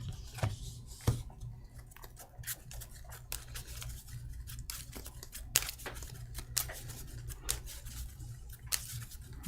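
Netrunner playing cards shuffled back into a deck on a table: a run of quiet, close papery riffles, rubs and light ticks in an irregular rhythm, with no talk.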